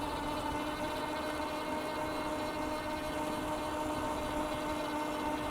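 An electric mountain bike's motor drives it up a small hill with no pedaling, giving a steady whine and hum over continuous rolling and wind noise for the whole stretch, with no talking.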